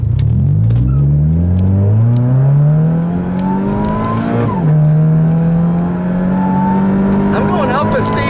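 Supercharged Scion FR-S accelerating hard up a steep hill, engine note climbing loud and close through a gear, dipping at a shift, then pulling again, with a person talking briefly over it.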